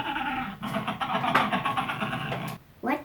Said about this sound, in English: Here's what a penguin sounds like.